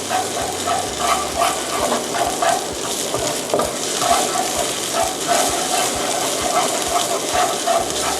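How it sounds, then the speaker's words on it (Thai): Southern Thai curry paste stir-fried in a pan for prawns with stink beans, a steady loud sizzle with rhythmic scraping strokes of the spatula throughout. "เดี๋ยวเราผัดอีกสักนิดนึงนะคะให้เครื่องแกงเนี่ยเริ่มหอมซะก่อน"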